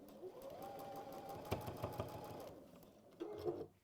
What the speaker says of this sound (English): So I'm just stitching on that line.